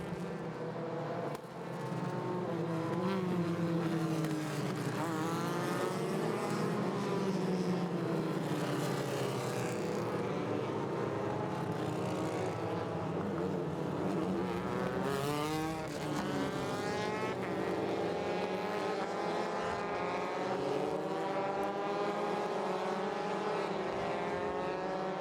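Race cars at Road America roar past at full throttle, layered engine notes rising and falling in pitch as they pass, loud and continuous for the whole stretch with no voices.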